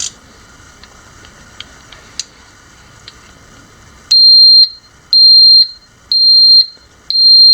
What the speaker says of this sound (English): Don't know why that's beeping.